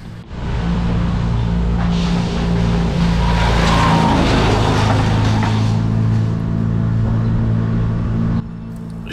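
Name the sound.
truck shredding trees, wood chipper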